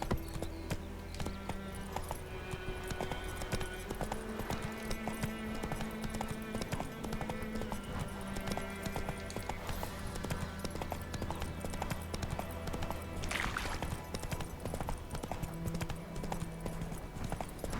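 A horse in the video game The Witcher 3: Hearts of Stone gallops with steady, rhythmic clip-clop hoofbeats that run continuously throughout, mixed under droning game music and ambience.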